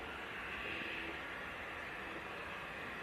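A KLM Embraer E190 jet departing Leeds Bradford Airport, heard as a steady, broad roar of engine noise that holds at an even, moderate level throughout.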